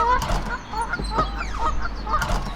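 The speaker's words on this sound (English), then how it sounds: "our buildup occurred when we started to have these geese come in" Several geese honk in a loose, overlapping series of calls over a steady background rumble, fairly close and loud throughout.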